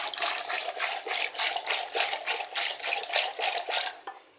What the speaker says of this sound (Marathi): हे जरासं हलवून घ्यायचं असं